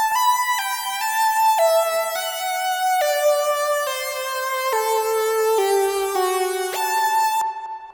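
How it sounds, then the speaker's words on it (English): Analog Lab's "Bend Me" synth patch plays a bright, buzzy lead melody in thirds harmony, with steady sustained notes that glide between pitches, loud and alone. "And this is another great Analog Lab sound, and that is Bend Me"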